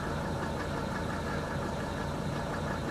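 A 1982 Mercedes 300D turbo-diesel with very high mileage idles with a steady clattering, knocking rumble, heard close and continuous with no voices.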